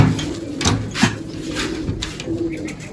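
Big pigeons coo close by in low, throaty, repeated calls over a steady background murmur, with a few sharper rustles.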